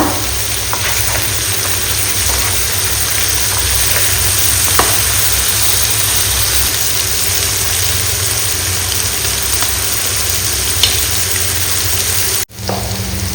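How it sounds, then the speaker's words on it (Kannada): Food frying in a pan, being cooked on its second side, gives a constant loud sizzle over a low steady hum, ending with a brief clunk. "ಈಗ ಇದು ಫ್ರೈ ಆಗುವಾಗ ಇನ್ನೊಂದು ಸೈಡ್ ಫ್ರೈ ಆಗ್ತಿರುವಾಗ"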